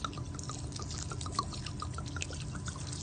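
Portmagee glugs steadily into a homemade mustard mix in a bowl, a close, continuous liquid pour lasting a few seconds without speech.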